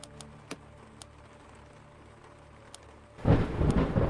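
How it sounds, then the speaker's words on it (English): Rain pattering on the windows of a mansion in a horror video game, a quiet, steady patter broken by sharp ticks, then swelling abruptly into a loud rushing downpour with a rumble near the end. "we listen to the rain pitter-patter on the windows"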